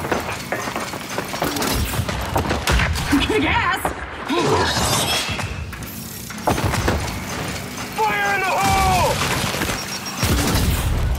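Frag grenade blast in the shooter game Blooddrive, heard as loud bursts and crashing impacts amid game gunfire and effects, with a voice talking over parts of it.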